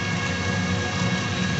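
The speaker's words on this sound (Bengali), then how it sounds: "বৃষ্টি অনবরত প্রায় হয়েই চলেছে, থামবার কোনো লক্ষণই নেই।" Steady rain falls heavily on the road at Shyamnagar junction, making a dense, unbroken hiss of drops with a low rumbling undertone. The rain stays loud and even throughout, with no voices.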